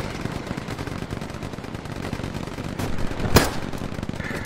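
Gunfire from a tank in a hardcore FPS video game cracks over a dense, continuous background of battle noise. One sharp, loud shot stands out near the end.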